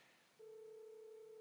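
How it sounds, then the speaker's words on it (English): A telephone rings faintly in the background of a quiet room, a steady electronic tone that starts abruptly and holds unbroken. "Sorry about the phone ringing in the background."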